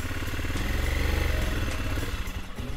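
A BMW motorcycle engine revs and clatters as its rear wheel spins without grip on a wet uphill slope in Switzerland, a loud rhythmic throbbing close by with no speech.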